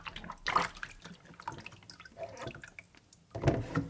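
Sliced potatoes being rinsed in water, with irregular splashing and sloshing bursts at a moderate, close level, one near the start and a stronger one at the end, with quieter trickling between.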